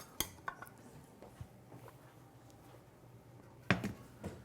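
Metal tongs rummaging in a pot to fish out a split, blanched geoduck clam, making a few faint clinks and scrapes spread apart, with one sharper knock near the end.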